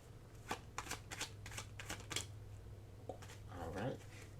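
Oracle cards being shuffled by hand, a string of soft, rapid riffling and flicking bursts close by in a quiet room, with a faint voice near the end.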